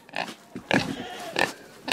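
Pigs grunt and snort at feeding time on a farm, four loud close bursts spaced about half a second apart, with brief pauses between them and no talking.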